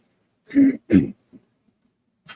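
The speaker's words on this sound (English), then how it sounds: "I have this cough that won't go away." Two harsh throat-clearing coughs in quick succession, close to the microphone, followed by a small rasp and a faint final cough in an otherwise quiet room.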